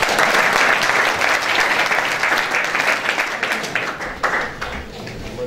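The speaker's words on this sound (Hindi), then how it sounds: "कभी कभी ताली दे दो" An audience at a motivational talk claps together, a full, even burst that stays strong before gradually thinning toward the end.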